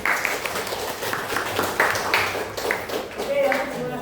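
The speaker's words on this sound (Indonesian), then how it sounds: "Tepuk tangan." Students in a classroom mathematics lesson clap together in a burst of applause, the patter blending with people talking over it.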